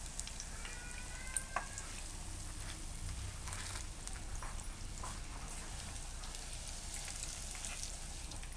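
Vegetable cutlets fry in hot oil with a faint, steady sizzle and scattered soft pops and crackles, heard alone at low level.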